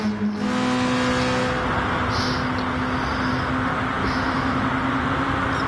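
Race cars roaring down the home straight at Sardegna in a racing video game, a loud continuous engine drone with steady high-pitched whine, no talk.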